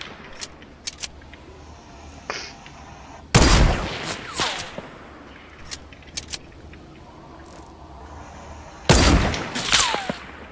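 Sniper gunfire in a video game: a few loud sharp shots with decaying tails, spaced several seconds apart, amid small clicks and ticks of game sounds, with no talk.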